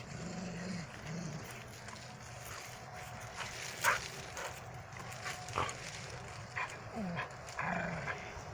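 Dogs nearby making excited grunts, snorts and short barks while playing, with a steady background rumble throughout.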